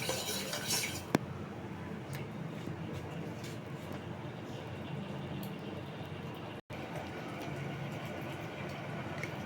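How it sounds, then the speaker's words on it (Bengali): Sugar stirred into watermelon rind in a pot gives a steady, close scraping clatter that runs the whole time, with one sharp knock near the start and a brief dropout later. "এবার আমি এটাকে ভালো করে এইভাবে মিশিয়ে নেব।"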